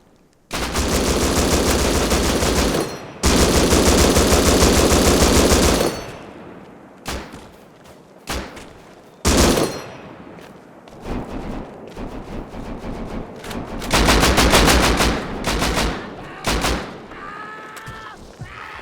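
Gunfire in the video game Rust, with loud sustained automatic bursts and single shots in uneven strings and pauses, close and dominant, with faint voices between the bursts.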